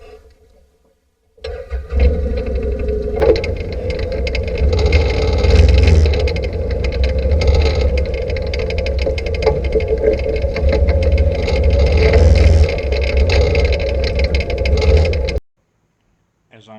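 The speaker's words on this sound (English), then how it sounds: "go right back down that very same hill and test the engine braking on the machine" A 2008 CanAm Outlander 800 Max XT ATV rolling down a hill on engine braking, its motor droning steadily and loudly up close with a low rumble, then cutting off after about fifteen seconds.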